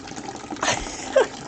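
Water trickles and splashes from a tap into a container at close range, a steady light flow with a brief brighter splash near the end.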